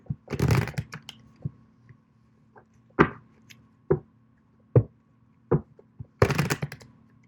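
Tarot cards get shuffled for a reading: quick papery riffles and bridging bursts at the start and end, with sharp single taps and card snaps spaced between them. Close and fairly quiet, with no speech.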